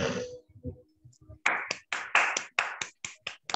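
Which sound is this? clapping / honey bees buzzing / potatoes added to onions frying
clapping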